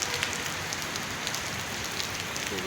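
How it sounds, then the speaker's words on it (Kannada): Heavy, steady rain pours down over a monsoon-soaked setting, a dense continuous hiss with scattered louder drop impacts, close and unbroken with no voices. "ಕಿರಿಕಿರಿ ಮಳೆ ಅಲ್ಲ ಜೋರು ಮಳೆ"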